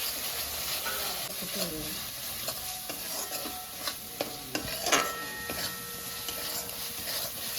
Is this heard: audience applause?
no